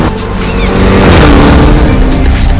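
Toyota Gazoo Racing road car engine in an Xbox racing video game, a loud, close, continuous engine roar with a rising rev and a hint of tire noise.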